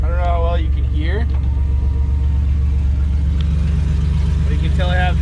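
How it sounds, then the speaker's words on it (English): A van runs with no muffler, a loud, close, steady low rumble throughout, while someone talks over it at the start and end. "you can tell I have no muffler. It's quite loud."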